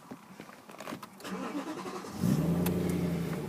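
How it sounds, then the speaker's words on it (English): A red BMW M3 with a V8 petrol engine and manual gearbox cranks briefly and fires up, settling into a loud, steady idle rumble close by, with faint handling noises before the start. "You can see that lovely V8 sound, does sound great."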